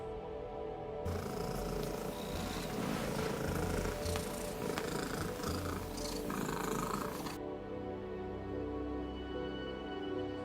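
Close, loud purring from a cat with a microphone placed on it, a continuous rumbling vibration held steadily for several seconds, with breathy rasps layered on top.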